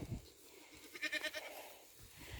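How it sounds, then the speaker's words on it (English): Baby goats bleat in a short run of quavering cries, fairly close and clear over quiet farmyard background. "Baby goats looking adorable."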